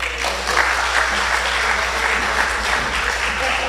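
A room of people applauding at a regional corporation pre-budget consultation in Tableland, steady crowded clapping at close range over a low constant hum, without talking.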